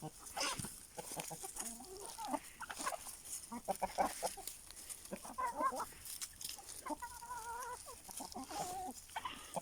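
Chickens and a rooster, Aseel fowl kept on a farm, clucking and calling in repeated bursts, fairly close, with varied tonal squawks scattered across the stretch.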